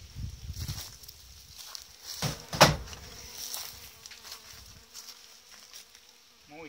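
Honeybees buzz steadily around a hive being prepared for winter, close by, with a sharp clattering knock partway through and faint handling noises of frames.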